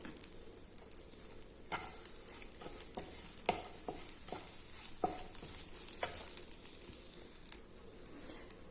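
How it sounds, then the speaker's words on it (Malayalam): Grated coconut is sautéed in a pan for healthy milk puttu, giving a steady soft sizzle broken by repeated scraping stirs of a spoon against the pan, close and moderately loud. "തേങ്ങ ചേർത്ത ശേഷം അല്പം ഒന്ന് വഴറ്റി മതി"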